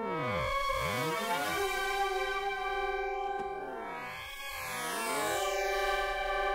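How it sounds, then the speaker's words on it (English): A synthesizer patch on a Minifreak or Hydrasynth rings out through a flanger, sweeping up and down in slow, repeating comb-like swooshes over a sustained tone, quiet and alone. "I like the sound of that flanger."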